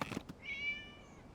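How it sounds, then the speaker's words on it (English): In Genshin Impact, a single short cat meow rises and holds briefly after a couple of faint taps, quiet and close, with no voices. "It was just a cat."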